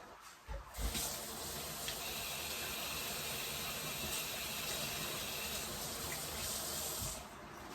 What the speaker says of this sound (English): I have to wash my hands because I just hate stuff all over my hands.